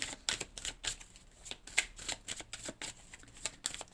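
Oracle cards shuffled for a reading, a rapid run of crisp riffling flicks and slaps repeating steadily at close range with no talk over them.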